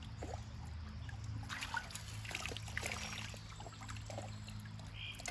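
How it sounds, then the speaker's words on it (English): Water trickles and pours steadily into a gold pan during prospecting, a continuous soft splashing stream at close range with faint low background hum. "so I'll just take some water, let it go into the gold pan"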